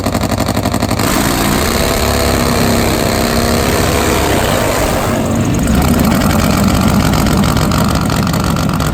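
A Top Fuel nitro Harley drag bike engine, a 1,000-horsepower, 1,000-pound machine with a two-speed transmission, runs loud and steady at close range throughout, a dense roaring drone with a brief shift in tone midway and no talking.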